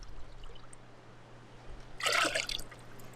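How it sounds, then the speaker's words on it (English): Pineapple juice is poured into a container for Caribbean sangria, a short, splashing stream starting partway through after a quiet stretch and lasting about a second. "1 cup pineapple juice"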